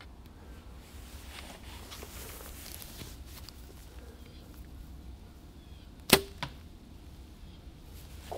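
A hunting arrow fitted with a broadhead leaves a bow on an outdoor practice range as one sharp, brief release thump with no follow-up, set against a long, quiet stretch of faint ambient noise.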